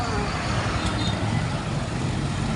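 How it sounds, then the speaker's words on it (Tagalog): Dense road traffic on a street leading toward a public market, with cars, large trucks and buses rumbling close by in a steady, continuous roar and occasional faint air-brake hiss. "Oh, traffic dito."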